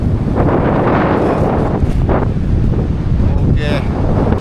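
Strong wind roars across the microphone on the summit of Nipana Shinzan mountain, a constant loud buffeting rush with gusty swells throughout, and a brief voice-like sound near the end.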